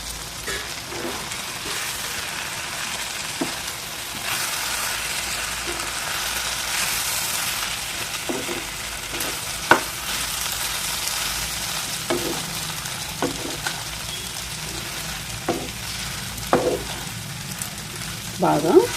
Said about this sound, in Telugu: పచ్చి వాసన పోయే వరకు కారం బాగా వేయించుకోండి